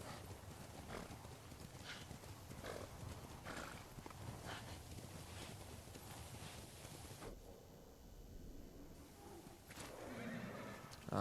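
A horse in the video game Ghost of Tsushima whinnies and clip-clops steadily along, with wind rushing over the ride and game sound filling the background throughout.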